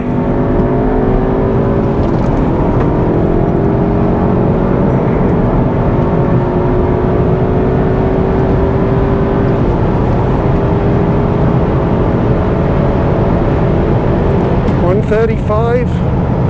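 An Audi RS3 drives fast on a race track with a constant loud engine and road roar. Its pitch rises steadily as it accelerates, and a short burst of higher whine comes near the end.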